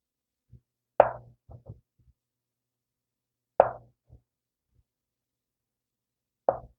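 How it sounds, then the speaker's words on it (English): A knife cuts a block of tofu into half-inch slices, three sharp separate chops onto a cutting board a few seconds apart, each with a soft follow-up tap, close and alone in otherwise quiet surroundings. "I'm just going to slice this into about 1/2-inch"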